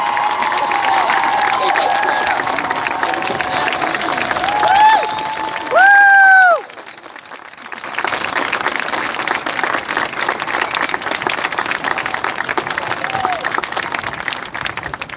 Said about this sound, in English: So please give another round of applause.